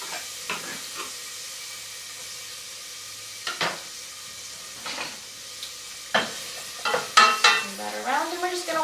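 Onions sizzle in hot olive oil in a pan. A soft, steady frying hiss runs underneath repeated scrapes and knocks of a utensil stirring close by, and the stirring grows busier toward the end.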